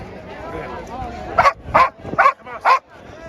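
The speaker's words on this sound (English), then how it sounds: "when he says the name of Hamas, the dog barks aggressively" A dog barks aggressively at a pro-Israel protest in London, with four sharp, loud barks in quick succession after someone speaks.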